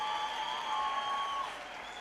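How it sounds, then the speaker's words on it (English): Audience applause at a youth empowerment event: a steady wash of many hands clapping with a faint crowd murmur, moderately loud, with a thin sustained tone ringing over it and easing off near the end. "A round of applause for him. A round of applause."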